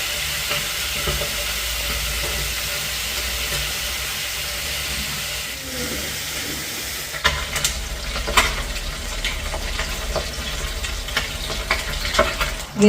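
Crab curry with drumstick leaves cooking in a pan, a steady bubbling sizzle with clattering stirs and scrapes growing busier toward the end.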